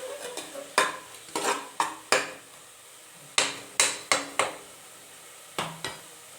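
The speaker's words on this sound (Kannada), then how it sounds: "ನೀಟಾಗಿ ಮಿಕ್ಸ್ ಮಾಡ್ಕೊಂಡು ಫ್ರೈ ಮಾಡ್ಕೊಳ್ಳಿ." Mushroom biryani masala stirred and fried in a pan: a dozen sharp spoon scrapes and knocks against the metal at uneven intervals over a soft, steady sizzle, close and fairly loud with no talking.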